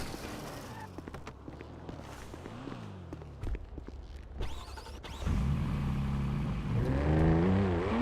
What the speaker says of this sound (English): I'm gonna take the BMW out for a little bit.